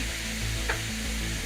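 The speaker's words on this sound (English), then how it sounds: "let that go ahead and keep sizzling up" Steak sizzling in a skillet with mushrooms, a steady crackling hiss with a low hum beneath and a brief scrape midway.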